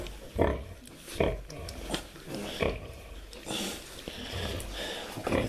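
Newborn piglets grunt and snort in short bursts about once a second, near and fairly quiet, with snuffling between the calls.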